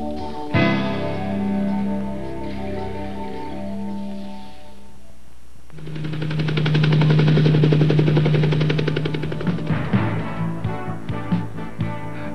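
A 1983 S. Madill five-drum high-lead skyline yarder logging machine runs with a droning engine that shifts pitch, then rises into a loud, rattling mechanical roar with rhythmic pulsing. No one talks.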